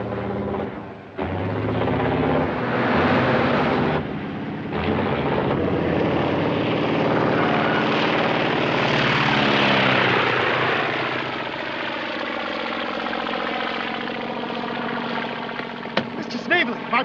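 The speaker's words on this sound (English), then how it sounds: "I didn't know you could drive a plane." A propeller airplane drones loudly and steadily in flight, its engine pitch rising and falling, with voices talking over parts of it in a 1955 slapstick comedy scene.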